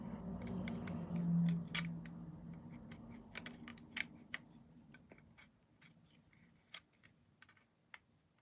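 Hobby knife or sprue cutters snipping a part from an Airfix Concorde model kit, a handful of sharp, quiet clicks and ticks spread across a low background hum.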